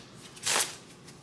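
A single quick riffle of cards, a short papery flutter rising from a quiet background and fading within a fraction of a second.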